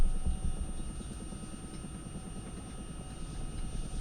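A helicopter in a military simulation video game drones with a steady, loud low rumble and whine throughout, heard alone without talk.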